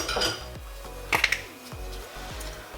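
A spoon mixes melted garlic butter with crushed garlic and coriander in a pan, making a brief cluster of close metallic clinks over a steady tonal background.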